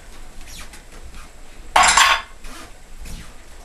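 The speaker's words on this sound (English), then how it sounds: "And just give it a stir." Spoon stirring coffee gravy with ham in a pot, soft scraping and light metallic clinks, with one louder clatter in the middle, close by and otherwise quiet.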